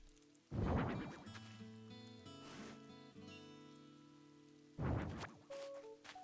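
Rain patters in Animal Crossing: New Horizons on the Switch, a soft hiss beneath gentle in-game music, with two louder whooshing bursts near the start and end.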